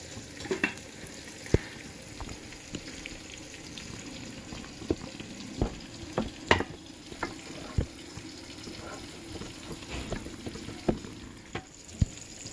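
Green chillies frying in a tablespoon of oil in a thick pan on the stove, a soft steady sizzle punctuated by sharp pops and spatters at irregular intervals, close and fairly quiet.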